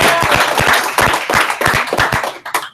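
Audience applause at a ReactJS developer meetup in Denver, dense clapping that fills the room steadily and stays loud throughout, tapering slightly near the end.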